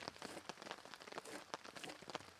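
Rain falls on a forest during a bushcraft overnight, a quiet, crackly patter of drops striking nearby surfaces in an irregular spattering texture, faint and steady with no voices.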